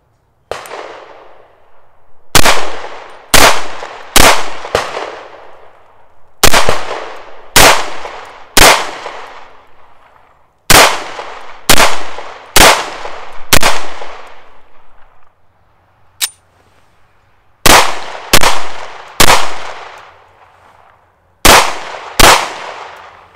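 A Llama Max-1 pistol in .38 Super firing rounds, sharp loud reports in quick bursts of two to four shots with short pauses between strings and ringing decay after each.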